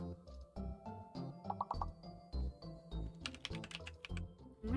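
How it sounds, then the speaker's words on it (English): Fingers type steadily on a computer keyboard, producing a rapid, uneven run of close, crisp key clicks and clacks that continues throughout without pause. "I'm just gonna start typing in random garbage until something"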